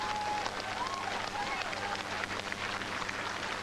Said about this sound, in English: And the crowd's gone crazy.